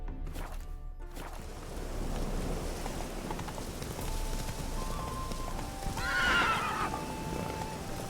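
Roach, the horse in The Witcher 3, gives a clear whinny over a background of rain-like noise and hoof clip-clops, with a brighter, louder neigh near the end.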